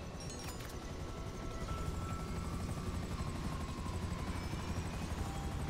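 Video game helicopter with a damaged, failing tail rotor, a steady whirring rotor drone with a rhythmic low thump, continuous and fairly close, with no talking.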